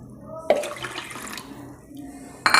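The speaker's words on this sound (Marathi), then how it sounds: "1 वाटी डाळ आहे, त्यासाठी मी 2 वाट्या पाणी टाकणार आहे" Water being poured from a small bowl onto washed dal for mendu vada batter, a continuous splashing pour lasting about two seconds and followed by a louder splash at the end.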